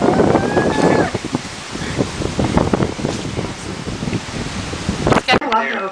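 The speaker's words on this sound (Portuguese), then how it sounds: "Olha o vento, olha o vento." Strong wind gusts roar steadily against the microphone during a tornado warning, outdoors under a lowering storm cloud, with a person talking over the rushing noise.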